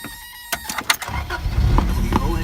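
Toyota AE86 engine cranking on the key and catching, a few sharp clicks and a short whir before a steady low rumble that settles into a close idle, followed by faint radio sound.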